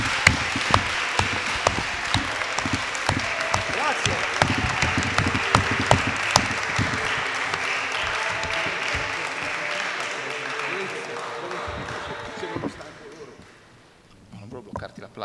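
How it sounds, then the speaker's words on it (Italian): Sustained audience applause fills a book presentation hall, dense clapping that stays steady for about twelve seconds before tapering off into quieter scattered claps and room noise. "Applauso"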